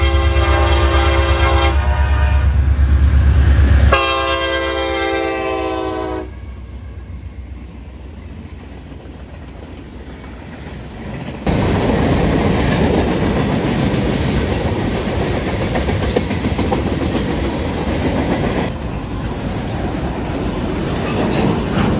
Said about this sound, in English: NS 170 flies east out of London in the first morning light.